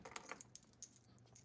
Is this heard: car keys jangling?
yes